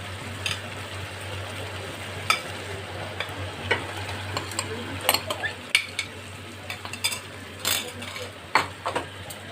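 Fried ridge gourd and potato pieces are stirred into a bubbling spice paste in a pan for a malai curry, with a low sizzle, a steady hum beneath, and intermittent spoon scrapes and taps close up.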